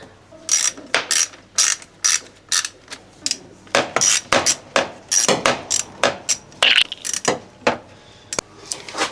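Close, crisp clicking bursts from a ratchet wrench loosening a spark plug in an RB30E cylinder head, repeated short strokes in an irregular rhythm with no speech.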